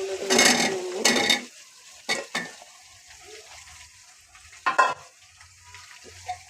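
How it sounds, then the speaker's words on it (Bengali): Potatoes sautéing in oil with a spice mixture in a pot, a soft sizzle broken by loud bursts of spatula scraping and metal clatter from close stirring. "তো আলুগুলো কষিয়ে"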